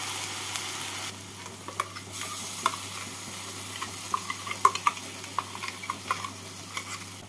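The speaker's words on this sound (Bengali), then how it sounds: "এবার এই মশলার সাথে চারমগজ আর পোস্ত বাটাটাকে নাড়াচাড়া করে নেব।" Melon seed and poppy seed paste stirred into spices frying in a pan, giving a steady low sizzle with a run of light spatula scrapes and small ticks, close and moderately loud.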